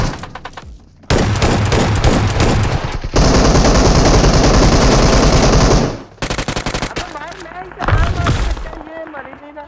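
Gunfire in BGMI (PUBG Mobile): loud, close bursts of automatic fire in several long rapid strings with short gaps between them, dominating throughout.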